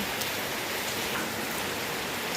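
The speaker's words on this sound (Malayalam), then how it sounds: "ഭയങ്കര മഴയാണ് ഗൈസ് കാലാവസ്ഥ" Heavy rain pours steadily, a dense even hiss of drops on surfaces with no voices.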